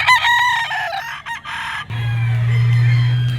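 Gamefowl at a pet market, a yellow-legged Picom rooster about one and a half years old, crowing loudly and close in a long drawn call, with clucking, market noise and a low background hum.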